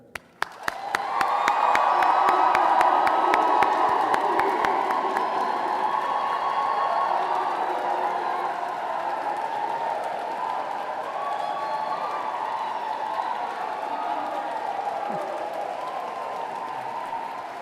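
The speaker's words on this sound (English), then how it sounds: "So will you please applaud them in return?" Graduates fill Rochester Cathedral with loud, sustained applause and cheering, opening with a few sharp claps and then swelling into a dense, reverberant roar that holds steady for over fifteen seconds.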